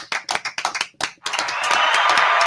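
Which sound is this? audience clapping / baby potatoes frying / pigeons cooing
audience clapping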